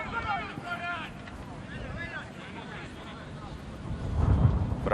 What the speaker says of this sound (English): It's also very, very windy.